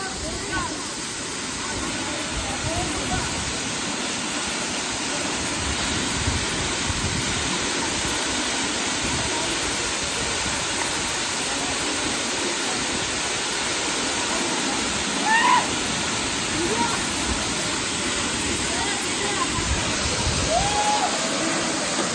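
Dhangar waterfall near Badlapur roars as a constant, dense rush of falling water, steady and enveloping from start to finish, with faint voices barely under it.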